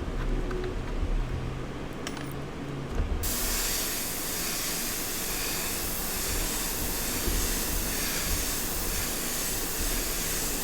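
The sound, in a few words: airbrush spraying carbon black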